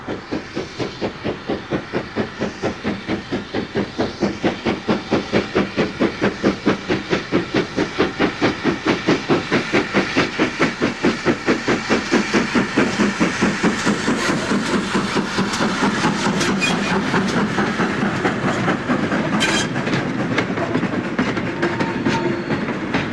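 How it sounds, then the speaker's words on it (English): Great Western Manor class steam locomotive Foxcote Manor hauls a freight train, loud, close exhaust beats chuffing in a fast, steady rhythm with hissing steam and rattling wagons throughout. "the versatility of Great Western engines is seen on the Llandothrin Railway with Foxcote Manor on a freight"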